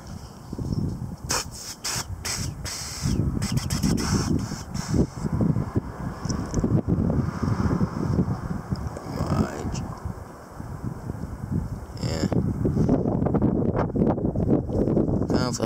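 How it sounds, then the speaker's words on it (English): Strong wind storm gusts buffet the microphone in surging waves: a persistent smaller gusting, a brief lull, then a bigger blast building toward the end, with a voice talking faintly at times. "there's persistent smaller but still decent gust, and then it stops for a little bit, and then that big gust"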